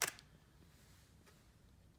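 A Canon 5D Mark II DSLR fires its shutter once, the mirror flipping up in a single sharp, close mechanical click at the start, followed by near silence with faint room hiss.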